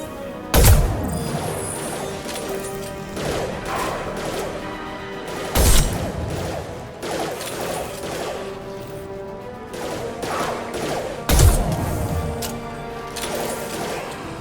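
Gunfire in the Mass Effect 2 video game: three heavy, booming shots spaced several seconds apart over a continuous mechanical combat background.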